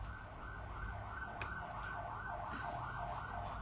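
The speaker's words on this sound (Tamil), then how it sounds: "ஆம்புலன்ஸ்." An ambulance siren wails in a steady, repeating up-and-down sweep, fairly loud and continuous throughout against low traffic rumble, with no speech.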